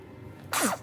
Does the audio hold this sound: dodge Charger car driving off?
no